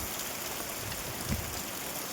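Steady heavy rain pours down over a flooded village, a dense, even hiss with no pauses and one slightly louder splash midway, no voices present.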